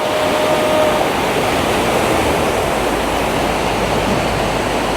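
Surf washes onto a public sea beach at Ayaş in Mersin, a steady, loud, unbroken rush of breaking water with no voices.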